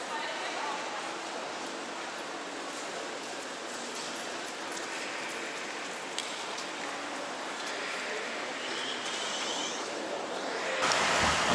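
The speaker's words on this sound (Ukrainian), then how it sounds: "там така злива сильна" Heavy downpour of rain in Wiesbaden, a dense, steady roar of drops hitting surfaces that continues without a break, swelling slightly louder near the end.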